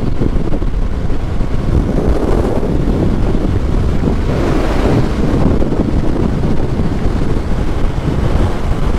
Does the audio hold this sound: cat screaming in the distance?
no